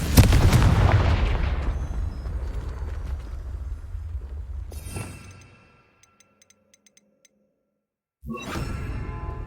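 A Confringo fire spell in Hogwarts Legacy erupts in a loud, heavy blast that rolls and crackles for several seconds before dying to near silence, followed by another rumbling burst near the end.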